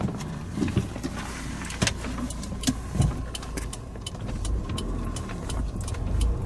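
Car driving back through a city tour of Pretoria, with a steady engine and road hum that rises toward the end and scattered clicks and knocks from the cabin, heard up close with no one talking.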